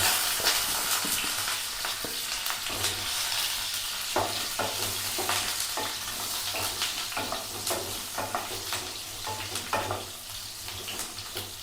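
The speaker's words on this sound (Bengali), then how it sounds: "এবার আমি আলুগুলো এতে ভেজে নেব।" Potato pieces fry in hot oil in a pan, a steady close sizzle with frequent scraping stirs and occasional clinks of the utensil against the pan, heard alone.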